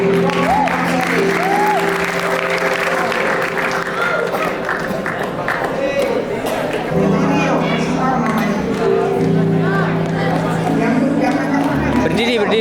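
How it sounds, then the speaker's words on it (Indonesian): Seminar audience at a youth prayer event clapping continuously, a busy wash of many hands mixed with crowd murmur and voices throughout. "Tepuk tangan dulu."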